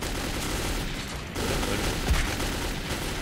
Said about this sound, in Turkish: Aa biri vurdu. Biri vuruyor.